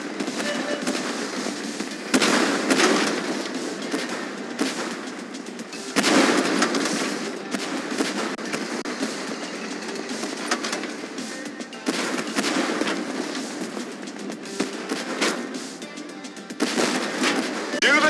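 Tank cannon fire from the Tank Force video game on the Great Wall map: a few loud, sharp blasts spaced several seconds apart, each ringing out over a constant rumbling game soundscape.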